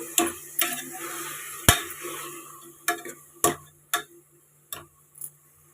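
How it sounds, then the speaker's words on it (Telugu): A spoon stirring spinach into dal in a pot gives eight or so distinct scraping, knocking strikes at an irregular pace over a quiet background hiss, with no talking. "పాలకూర మొత్తం వేసుకున్నాక ఒకసారి కలుపుకోవాలి"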